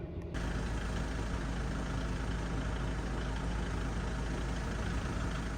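A farm tractor engine runs with a steady, loud, low rumble that starts abruptly and holds constant throughout. The noise is close and unbroken, with no talking.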